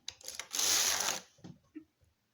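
A Passap knitting machine carriage makes one quick rushing, rattling sweep across the beds while knitting half fisherman's rib, preceded and followed by a few soft clicks and knocks, close and moderately quiet.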